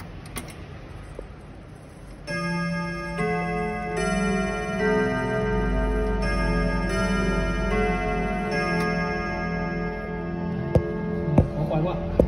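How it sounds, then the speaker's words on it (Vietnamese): A Kieninger C282 clock strikes the half hour with loud, ringing chime tones that sustain and overlap, steady ticking beneath and a few sharp clicks near the end. "Chuông 30 phút."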